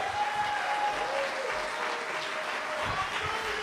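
A church congregation applauding at a worship service, a dense, steady wash of clapping from many hands throughout, fairly loud and continuous with no pause.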